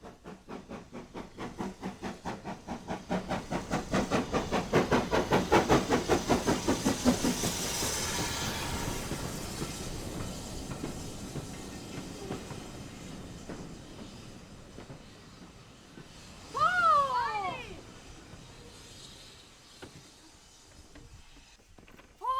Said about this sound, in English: The conductor let me go up to the front of the train where the engine is.